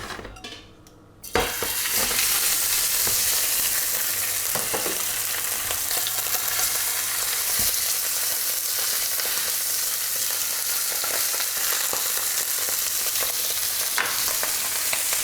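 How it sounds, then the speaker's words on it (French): Beef hanger steak sears in a very hot pan of clarified butter, a loud steady sizzle running throughout after a brief quieter start, with occasional utensil scrapes and clinks. "Elle est bien chaude ma poêle et on va faire cuire la hampe."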